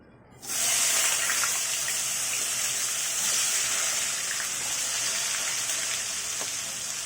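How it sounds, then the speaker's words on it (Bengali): Washed, cut potatoes go into hot oil in a home kitchen, setting off a loud, steady sizzle that starts suddenly and holds evenly throughout. "এখন এই তেলের ভিতরে দিয়ে দিব আলু"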